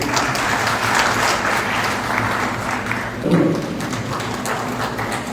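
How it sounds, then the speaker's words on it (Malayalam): Audience applause at a state conference of a traders' and industrialists' association, a steady broadband clatter of many clapping hands lasting throughout, with a brief louder swell partway through. "അതിന് അംഗീകരിച്ച് ഒരു കൈയടിക്കണം"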